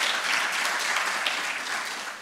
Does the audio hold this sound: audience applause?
yes